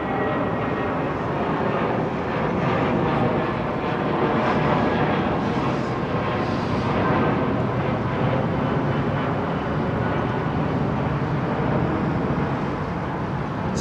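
Korean Air Boeing 747 departing Heathrow, a loud, steady jet roar that holds at full strength throughout, with no voices over it.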